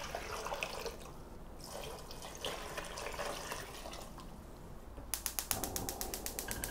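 A gas stove burner is turned on under a pot of water, kelp and green onion for Korean soup stock, giving a rapid run of sharp igniter clicks near the end after a stretch of quieter kitchen noise.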